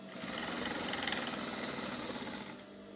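A sewing machine stitches a seam on a shift dress, a fast, even mechanical whirring hum that runs steadily for about two and a half seconds before cutting out.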